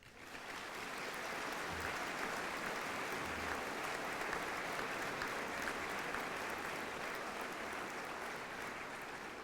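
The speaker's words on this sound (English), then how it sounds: "I would like to ask the support teams to applaud the accomplishments of the graduates." Steady, dense applause for graduates at a university graduation ceremony in Newcastle, Australia, sustained and loud from start to finish with no talking over it.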